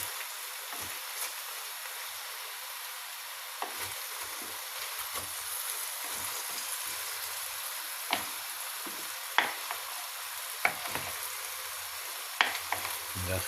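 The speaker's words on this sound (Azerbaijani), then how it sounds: "Biraz da yağ əlavə edirik. Beləcəni də qarışdırırıq" Chicken fries in oil in a pan under a steady close hiss, while a utensil stirs it with scattered scraping knocks and clacks over about thirteen seconds.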